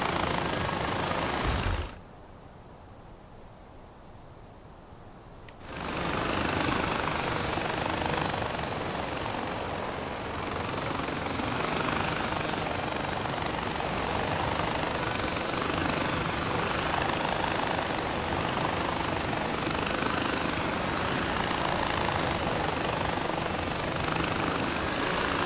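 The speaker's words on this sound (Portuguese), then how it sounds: "Ah, de helicóptero é mais rápido, né, velho?" Helicopter flying in the video game Far Cry 4, a steady loud rotor and engine roar that briefly drops to a muffled hum before returning, continuous and close throughout.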